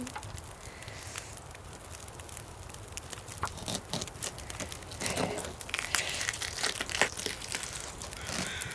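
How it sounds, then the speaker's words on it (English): Wet, crunchy tearing and rustling from harvesting hides and guts off an animal carcass in the survival video game The Long Dark, a steady close texture of crinkles and crackles that grows denser toward the end, with no talk. "There's something gross about that sound when we grab the hides and guts."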